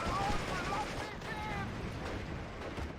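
Artillery shell fire in the WWII strategy game Steel Division: Normandy 44, heard as scattered booms and rumbling gunfire layered with a busy battlefield mix and faint high whistles, all at moderate loudness.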